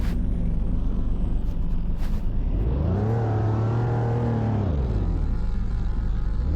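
A Toyota Tacoma pickup crawls over rough off-road terrain, its engine rising into a strained, revving hum midway and then easing back down, over steady rumbling noise from the truck.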